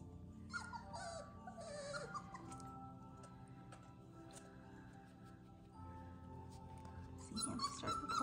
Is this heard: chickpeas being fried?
no